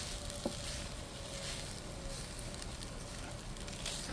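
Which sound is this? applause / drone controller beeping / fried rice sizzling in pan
fried rice sizzling in pan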